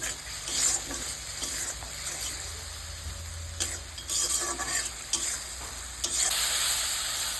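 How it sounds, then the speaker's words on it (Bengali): Tomato paste sizzles and fries in hot oil for Bengali katla kalia, with steady spitting crackle and repeated scraping stirs of a spoon against the pan, fairly close and continuous, no talking. "টমেটোর পেস্টটা দিয়ে দিচ্ছি। এটা একটু ভালো করে কষিয়ে নেব যতক্ষণ না কালারটা চেঞ্জ হয়।"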